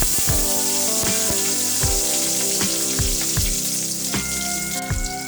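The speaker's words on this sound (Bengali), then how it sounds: "তেলে দিয়ে দেবো তেজপাতা শুকনো লঙ্কা এলাচ লবঙ্গ দারচিনি দিয়ে দেবো কিছু কাঁচামরিচ" Bay leaf, dried chili, cardamom, clove and cinnamon sizzling in hot oil for Bangladeshi bhuna khichuri, a loud, steady frying hiss punctuated by repeated sharp crackles and pops, close and without talk.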